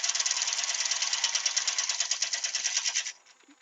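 Wood lathe turning a laburnum bowl at about 500 RPM: a close, dense, rhythmic rattling chatter of tool cutting wood that runs steadily for about three seconds, then stops abruptly, leaving faint quiet.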